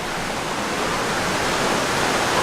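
The big waterfall at YS Falls makes a steady, unbroken rush of falling water. It is loud and close, with no voices over it.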